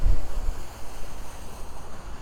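Rainwater rushes through a storm drain beneath an estate after heavy rain, a steady close roar of running water with gusty low rumble and wind buffeting the microphone, no voices.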